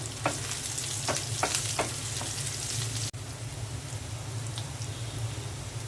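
Sliced onions and green chillies fry in a pan with a steady, close sizzle, broken by a few soft stirring taps and a brief dip partway through.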